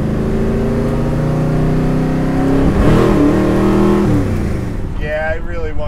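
A 700 hp 1967 Ford Fairlane's engine idles loudly with a rough lumpy rumble, then revs up sharply and settles back, heard close and continuous, with voices faintly talking near the end.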